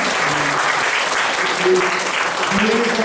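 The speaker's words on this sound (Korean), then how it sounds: "박수로 우리 감사를 표하도록 하겠습니다." Church congregation applauding in thanks to a visiting pastor, a steady, full wash of clapping from many people throughout, with faint voices murmuring underneath.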